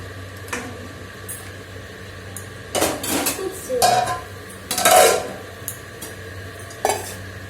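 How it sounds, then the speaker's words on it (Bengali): A spoon scraping and clattering against a metal cooking pot as rice is stirred, a few separate bursts of clinks and scrapes over a low background hum. "একটু চালিয়ে দিই, না হলে চালটা আর কি বসে যাবে।"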